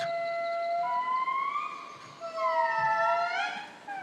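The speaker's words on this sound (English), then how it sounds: "A blood-curdling howl pierces the dawn light." At dawn in an ancient jungle, an animal sends out long, wavering howls that rise and fall in pitch. Each call is clear and carries well, repeats in swooping phrases and is answered by a second voice.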